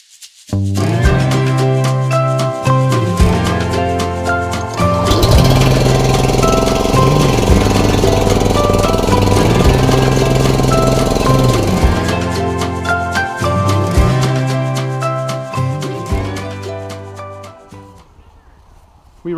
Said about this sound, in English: We ran through 1 liter of fuel on the gasoline engine